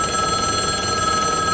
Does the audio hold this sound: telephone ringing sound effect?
yes